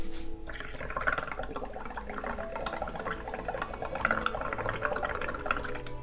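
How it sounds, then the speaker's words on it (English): Air is blown through a straw into a cup of liquid while making a DIY dragon scale rhinestone ornament, giving continuous close bubbling and gurgling that lasts the whole stretch, with no talking. "so let's blow some bubbles."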